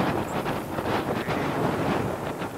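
Outdoor wind buffets the microphone, a steady low rumbling roar with gusty swells and no talking.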